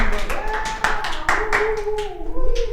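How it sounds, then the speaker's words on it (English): Several people clapping in quick, uneven bursts while a voice carries on underneath. "let's all give Ryan a round of applause for starting that show"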